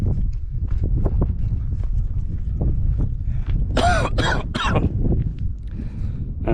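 Several harsh close coughs in a dusty gold-mining ghost town, the sharpest bursts clustered in the middle, over steady wind and the shuffling of someone walking.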